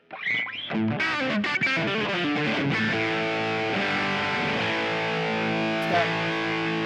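An electric guitar with a custom wound pickup set is played through distortion and effects, a quick run of notes settling into long sustained ringing chords, loud and alone.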